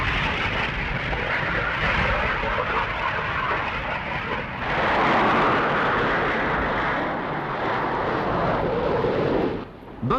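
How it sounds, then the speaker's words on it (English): Buccaneer and Phantom jets launch from the aircraft carrier Ark Royal, a loud, sustained jet engine roar that swells midway and holds steady, with a brief drop just before the end. "The aircraft carrier Ark Royal launches Buccaneers and Phantoms."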